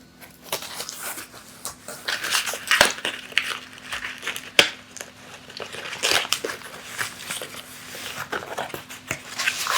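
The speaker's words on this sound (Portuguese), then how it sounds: "O cachorro tem que dar aquela conferida." A dog noses around while a package of books is unboxed indoors, giving close crinkling and crushing of packaging in irregular bursts along with faint snuffling, and nobody speaks.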